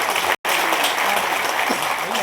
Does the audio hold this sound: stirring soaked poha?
no